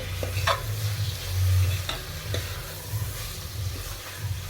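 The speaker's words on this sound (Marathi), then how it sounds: "आता व्यवस्थित हलवून घेते" Pav bhaji with tomatoes and green chillies being stirred in a pressure cooker, with a low steady sizzle and several scraping spoon strokes against the pot, close and fairly loud.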